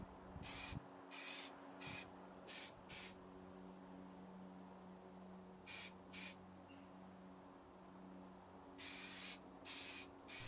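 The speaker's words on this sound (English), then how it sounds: "I did put a good couple of thick coats of primer on the bottom" Aerosol spray cans applying primer to Moto Guzzi Le Mans 3 motorcycle parts: a series of short hissing bursts, several quick ones early, a pair midway and a longer spray near the end, over a quiet room hum.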